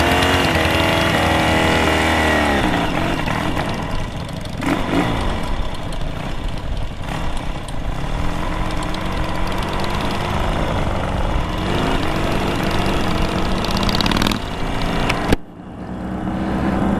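A 2009 Harley-Davidson Heritage Softail Classic motorcycle engine running steadily at close range with a rumbling, uneven throb, rising and falling slightly before a sharp knock and a sudden drop near the end.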